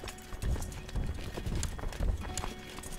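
Horse hooves clip-clop steadily in the medieval strategy game Crusader Kings 2, with occasional whinnies mixed into a busy, continuous game soundscape.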